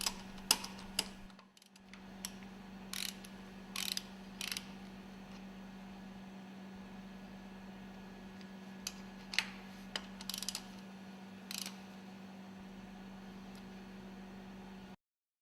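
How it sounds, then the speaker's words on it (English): A ratchet tightens the screws of a cylinder cover cooling jacket, sounding as short bursts of quick clicking at irregular intervals over a constant low machine hum in a quiet workshop. "Mount and tighten the screws for the cooling jacket."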